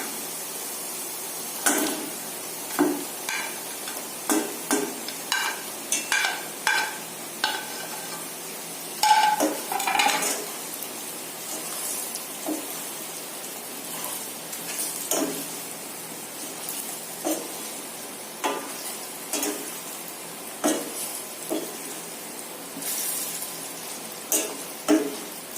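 Dates tipped into a pickle mixture and stirred in a pan, with repeated close scraping and clacking strokes in an irregular rhythm over a quiet background, plus occasional sharper utensil knocks.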